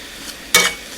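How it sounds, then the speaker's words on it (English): Bacon grease frying in a pan in a home kitchen gives a steady, soft sizzling hiss, broken midway by a brief, louder scraping burst like a utensil stirring. "that's probably going to fry for a good hour"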